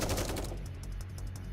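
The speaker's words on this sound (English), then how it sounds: "We hear the sounds of gunfire." Bursts of gunfire in a video game, set in a fog-covered village, crackle in a quick rapid sequence. The shots are loud and continuous at first, then continue as lighter repeated pops over a steady background bed, with no talking.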